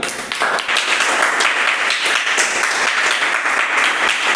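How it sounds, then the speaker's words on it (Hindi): Loud, dense clapping from a classroom of children, sustained and steady for several seconds with no talk over it, after they finish a crossword puzzle in a Class 7 science lesson. "जोरदार ताली।"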